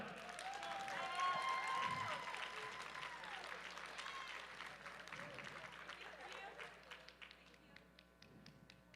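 Applause and scattered cheering fill a hall at a USA Powerlifting meet, honoring the five winners, with an announcer talking over the clapping, which thins into sparser claps by the end.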